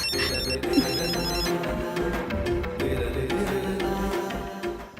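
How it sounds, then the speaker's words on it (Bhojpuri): A telephone rings repeatedly in a household scene from a Bhojpuri TV drama, loud and close, with a continuous ringing pattern and no talk over it. "दीदी, छोटका मालिक के फोन आयला आपके खातिर।"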